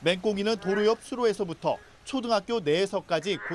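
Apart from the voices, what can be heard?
No everyday noise stands out behind the speech.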